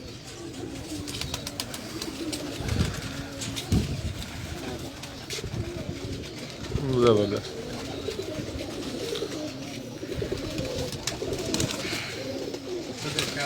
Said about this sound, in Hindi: ये भी मियाँ नज़ीर साहब के छठों वाले कबूतर हैं।